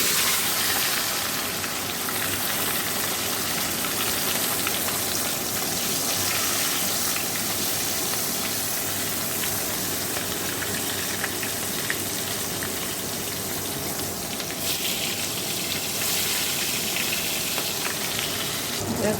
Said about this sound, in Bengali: দেখো এই যে মাছগুলো ভাজা হচ্ছে